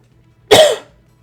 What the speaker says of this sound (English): Sorry about all my coughing